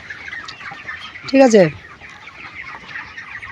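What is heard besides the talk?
chicken clucking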